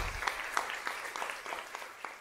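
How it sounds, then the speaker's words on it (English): Audience applause at the closing plenary of an environmental justice conference, a steady wash of scattered hand claps heard from a distance, fairly soft and even throughout with no speech over it. "Let's give them a round of applause."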